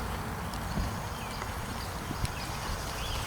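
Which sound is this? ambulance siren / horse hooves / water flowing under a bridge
horse hooves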